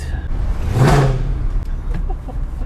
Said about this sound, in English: The hills are alive with the sound of a V8.